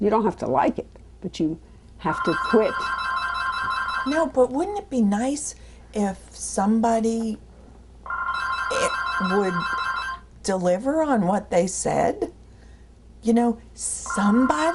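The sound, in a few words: telephone ringing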